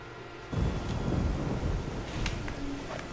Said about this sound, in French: ils ont de la chance, il pleut chez eux